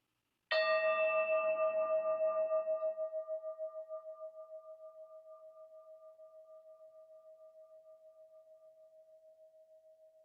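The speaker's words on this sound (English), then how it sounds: "tracking the sound of the bell" A single bell is struck once and rings out alone, its clear tone shimmering and slowly fading over many seconds.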